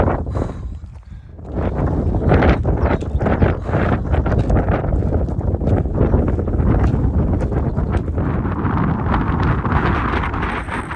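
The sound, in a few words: strong wind on a mountain trail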